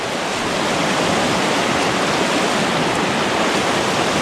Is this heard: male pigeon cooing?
no